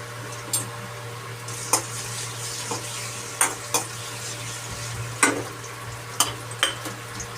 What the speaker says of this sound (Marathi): आता मी त्याच्यामध्ये घालून घेत आहे आला लसूण पेस्ट.